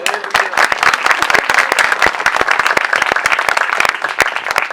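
A church congregation clapping for a pastor at a village gathering, loud, dense applause of many hands close by, sustained and fairly even, with a murmur of voices underneath.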